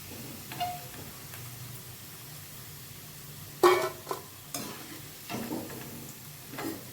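Bitter gourd pieces fry in a pan with a faint, steady sizzle, broken by a few louder stirring scrapes and clinks partway through.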